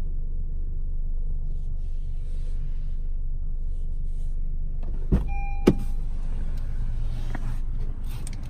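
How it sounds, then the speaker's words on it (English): Sunroof motor of a 2019 Honda HR-V EX opening inside the cabin, a steady low electric whir over engine-idle rumble, with a couple of brief clicks partway through and no talk. "The vehicle comes with a full tilt and full open sunroof."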